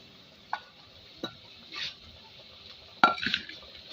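Mustard oil being spread and stirred around inside a pressure cooker, giving a few quiet, scattered scrapes and light clinks of a utensil against the metal pot, close by with no talking.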